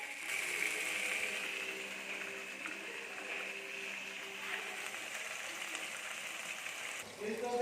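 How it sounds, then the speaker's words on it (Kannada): Food frying in a pan in a home kitchen gives a steady, dense crackle and hiss that runs without a break and stays fairly loud throughout. "ಚಟಾಪಟ ಚಟಾಪಟ ಬಿಡ್ತದ ಫ್ರೈ ಮಾಡಿ"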